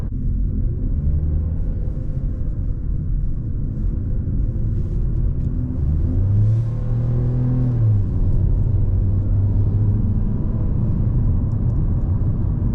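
Steady low engine drone and road rumble inside a new Ford Focus while driving, with a smooth shift in pitch midway as the engine eases through low revs, continuous and fairly loud with no talking.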